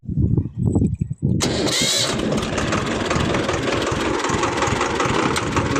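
A Swaraj tractor engine starts after a few low cranking pulses, then roars steadily at full rpm, close and loud, driving a rotavator off its PTO, with a voice briefly heard at the start.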